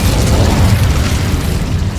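An Incendio fire spell is cast in Hogwarts Legacy, a loud, dense burst of whooshing flame and rumble in a dark cave that holds steadily at full strength for about two seconds.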